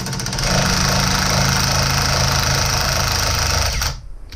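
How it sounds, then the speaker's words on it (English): An impact ratchet hammers at a steering column bolt on a Jeep TJ, a loud, continuous rapid rattling burst close up that stops abruptly near the end. "The impact ratchet does make this a lot faster."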